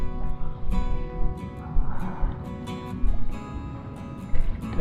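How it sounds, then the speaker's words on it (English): Strong wind gusting across a small pond at a White Mountains campground, a steady low rumble with rising and falling surges, alone without talk. "Definitely a lot of wind though."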